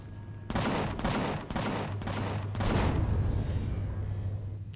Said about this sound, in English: Oh god, I'm getting shot.